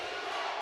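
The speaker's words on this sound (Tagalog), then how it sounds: "And here the crowd coming from Apalit here in Brenzigiao." A basketball crowd from Apalit roars at a Delta Cup game between the City of Mabalacat and Apalit, a dense, steady wall of cheering and shouting held at an even level for the whole moment.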